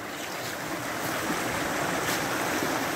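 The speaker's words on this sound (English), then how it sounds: "I can hear running water, as you normally can when you're near a forge." A continuous rushing wash of flowing water, broad and steady, like a nearby stream with light wind mixed in, near a forge.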